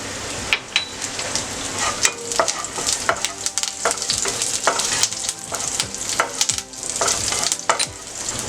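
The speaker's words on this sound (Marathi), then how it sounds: "लसूण परतून घेऊया। 7 ते 8 कढीपत्ते," Garlic and curry leaves sauté in hot oil with a bright, crackling sizzle, punctuated by frequent sharp pops and spatters at an irregular rhythm, loud and close.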